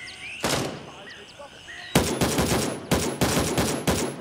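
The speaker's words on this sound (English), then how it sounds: "Someone's shooting at me." Gunfire in the military shooter game Gray Zone Warfare: a single loud shot, then a pause, then several quick bursts of rapid automatic fire, loud and close.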